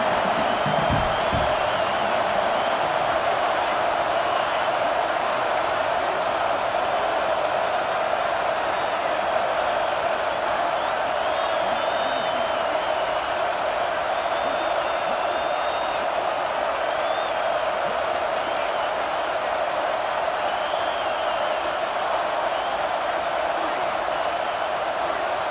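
A packed stadium crowd in EA Sports College Football 26 keeps up a loud, continuous roar that stays dense and unbroken throughout, with no pauses.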